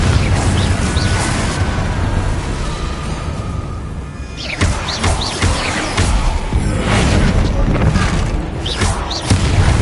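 Confringo blasting curses in Hogwarts Legacy, booming fiery explosions that burst repeatedly and loudly amid whooshes and crashes, with a voice shouting over the chaos.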